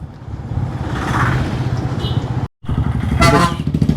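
A motorcycle engine with an aftermarket exhaust throbs loudly and close at idle, briefly cutting out before returning with a rev.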